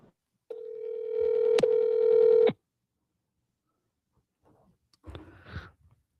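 A single steady phone tone sounds for about two seconds, cuts off, and after a silence a brief burst of mixed electronic tones follows, clear and close with no voices.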